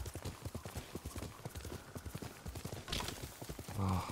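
Horse hooves clip-clop in a steady rhythm in the video game Ghost of Tsushima, moderately close and continuous, with a brief swoosh near the end.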